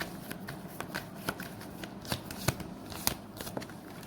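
Tarot cards shuffled by hand close up, giving a soft riffling flutter with sharper snaps at irregular intervals and no talking.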